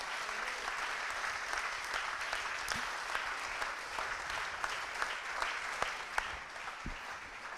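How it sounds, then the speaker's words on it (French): Sustained applause from an audience at an outdoor film festival in Vébron, honoring the selection committee, fairly faint and distant, with sharper individual claps standing out near the end. "applaudissez-les encore une fois"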